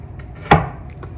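A single knife chop on a board while dicing carrots into small cubes for millet porridge, one sharp close thud over a low background hum.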